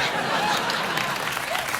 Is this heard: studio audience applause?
yes